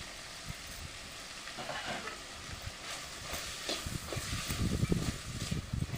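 Two grated carrots stirred in a frying pan for semiya upma give a soft, steady sizzle under intermittent spatula scrapes that grow a little busier toward the end, quiet and close with no voices.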